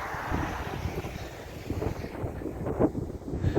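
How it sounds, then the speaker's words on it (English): Cold autumn wind blows across a microphone outdoors near snowy mountains, a gusty, rumbling buffet that swells and eases irregularly and stays loud and close throughout. "the wind is blowing"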